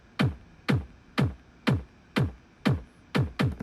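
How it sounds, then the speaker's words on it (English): Eight evenly spaced kick drum hits repeat as a steady loop, each a punchy low thump with a quick decay, played alone with nothing else around them. "it's going to turn the kick drum into a loop."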